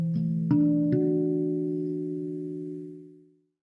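A steel tongue drum strikes three notes in quick succession, stacking a perfect fourth and a major third into a chord that rings out long and bell-like, slowly fading to silence.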